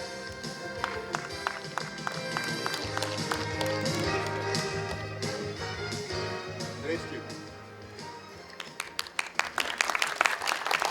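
At the closing ceremony of the sixth Volga Fairy Tale festival of national youth theatres in Cheboksary, an audience applauds over loud ceremonial music, with sharper bursts of clapping rising near the end and a voice briefly present.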